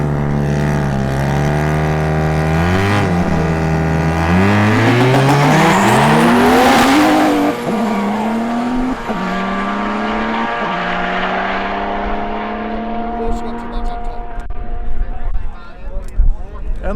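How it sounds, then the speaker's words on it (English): A Porsche and a rotary-engined modified muscle car drag racing on a country airstrip, loud engines droning and rising through gear changes as they launch, then fading away down the strip; an announcer talks over part of it. "The Porsche against the Rotor."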